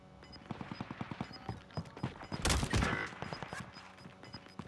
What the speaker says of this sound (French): Y'a un gars qui tire sur le collier.